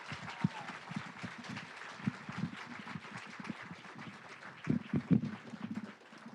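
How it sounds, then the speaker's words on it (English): An audience at an awards event applauds with a dense, fairly soft patter of clapping that keeps going throughout, a few louder claps standing out near the end before the sound fades slightly. "Let's give him another round of applause."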